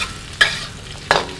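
Garlic and onion stir-frying in vegetable oil in a home kitchen give a low steady sizzle, with two sharp bursts of stirring and scraping close by and no voices.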